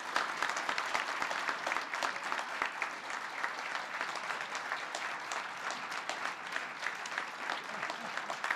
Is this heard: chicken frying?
no